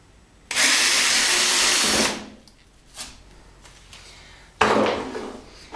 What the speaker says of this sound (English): Let me drill my hole,